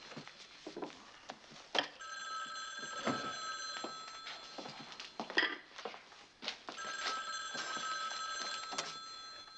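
A telephone bell rings repeatedly in bursts through a room, clear and fairly close, amid small household clatter and no talking.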